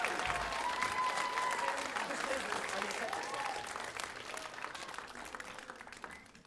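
A concert audience applauding the Rockhampton Grammar Girls as they leave the stage, a dense wash of clapping that gradually fades over several seconds, with faint voices mixed in.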